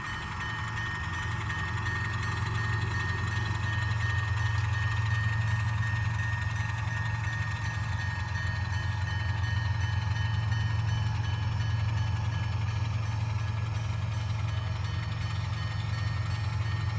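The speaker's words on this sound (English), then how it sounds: "I don't know if you can hear the Norfolk Southern train" A distant Norfolk Southern train sits with its engine idling, a steady low diesel drone holding under faint background noise throughout, with no talking.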